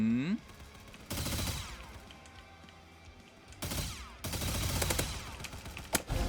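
Duel Blasters guns firing in the Roblox shooter Hypershot, in loud rapid bursts separated by quieter gaps, with a final sharp shot.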